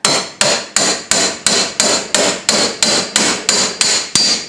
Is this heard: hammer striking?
yes